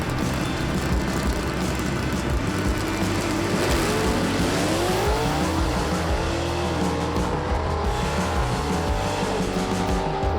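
Superstock gasser drag race cars, including a Camaro, roar loudly down the strip, engines rising through gears with a screaming pitch sweep and some tire noise, no voices.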